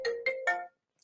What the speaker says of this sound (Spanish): disculpen, me olvidé de parar